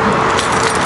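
A bunch of BMW car keys jangles briefly and close up, a loud bright metallic rattle lasting under a second, with no voices.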